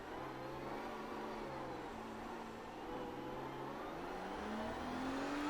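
Race car engine in the iRacing video game, braking for a slow corner and then accelerating, a continuous engine drone whose pitch climbs steadily toward the end, with no talk.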